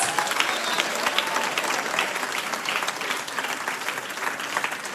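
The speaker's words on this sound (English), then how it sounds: "they deserve a rousing round of applause" An audience at a Grade 11 graduation ceremony at Discovery Bay High School STEM Academy gives a round of applause, dense overlapping claps that stay steady and moderately loud for several seconds.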